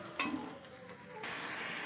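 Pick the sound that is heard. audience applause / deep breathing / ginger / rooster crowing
ginger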